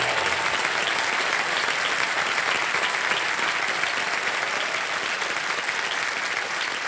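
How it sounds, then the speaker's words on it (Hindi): Studio audience applause on the KBC (Kaun Banega Crorepati) game show, a dense, steady wash of clapping sustained at full level for about seven seconds with no talk over it. "तालियां बज जाएं इनके लिए।"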